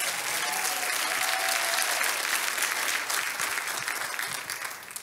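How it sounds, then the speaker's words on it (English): An audience at a graduation ceremony applauds in a dense, sustained wash of clapping that stays loud for several seconds, then gradually thins out. "Let's give Bree and Kennedy another hand clap."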